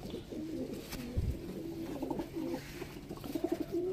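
Pigeons coo inside a pigeon loft, producing soft, low, repeated cooing calls with a faint flutter or bump in the middle, fairly quiet and with no talk.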